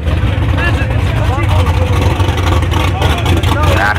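A 2.2-litre Honda Civic engine revving hard down a drag strip, loud and continuous with a steady roar across the whole stretch.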